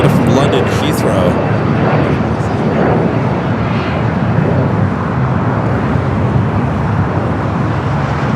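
An airliner takes off at LAX, a loud continuous roar of jet engine noise that holds steady throughout, with a rumble under broadband hiss.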